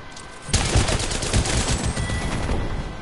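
A gun fires in the video game Apex Legends as a rapid, loud burst of automatic shots that starts abruptly and continues steadily for a few seconds, with no talking.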